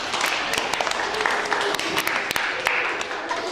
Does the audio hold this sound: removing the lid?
no